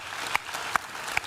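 A morning interview audience gives a musician a brief round of applause, with a soft, diffuse clapping texture and a few sharper individual claps standing out.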